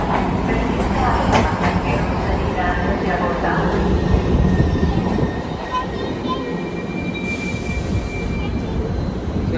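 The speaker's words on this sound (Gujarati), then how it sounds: "સો અહીંયાની મેટ્રો ટ્રેન હવે તમે જોઈ શકશો કે હવે આવી ગઈ છે તે." A metro train pulls into a station in America, its steady rumbling roar loud and close throughout with faint wheel squeal and a brief rise near the end, while people talk nearby.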